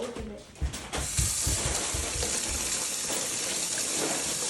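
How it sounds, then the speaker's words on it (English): Tap water runs steadily into a kitchen sink while a small edible root or vegetable is rinsed of dirt, a continuous close splashing hiss with a few brief low knocks near the start. "I'm gonna wash a little bit of dirt out of it."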